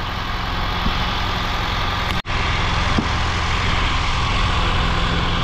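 A Honda Jazz engine, formerly stuck and now running during radiator work, idles loud and close with a steady low drone, broken by one brief dropout midway before the even rumble resumes.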